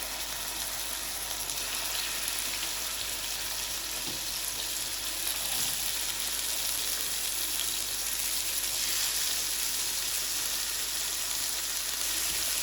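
Oil heating and sizzling in a pan on a gas stove while cooking chicken tikka, a steady, even frying hiss with faint stirring, close and continuous, with no talking.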